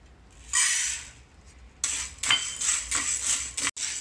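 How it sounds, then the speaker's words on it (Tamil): Black urad dal dry roasting in a pan, giving a hissing, rattling sizzle that comes in two loud bursts as the lentils are stirred and tossed, with a brief clink of utensil on metal and no voices. "முதல்ல உளுந்த வறுப்போம்."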